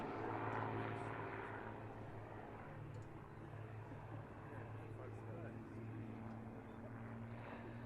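Matadors aerobatic display team aircraft flying a formation inside-outside loop, a steady broad engine drone with propeller-like hum that holds throughout, heard at a distance under occasional commentary.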